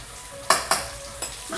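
A spoon stirring turmeric into a small amount of hot oil in a pan for dosa preparation, with a soft steady sizzle broken by four sharp scraping strokes against the pan, close and fairly loud.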